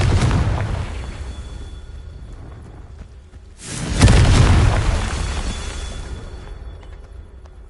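Confringo fire blast spell in the video game Hogwarts Legacy going off as a loud booming explosion with a rushing whoosh, preceded by a rumbling burst and fading into a long roaring decay.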